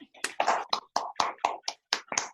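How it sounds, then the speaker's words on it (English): A few people clap in sharp, distinct bursts at an online sing-along, each clap loud and close with short gaps between, like a small group or a single pair of hands. "So we can give her a round of applause"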